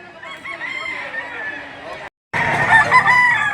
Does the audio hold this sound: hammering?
no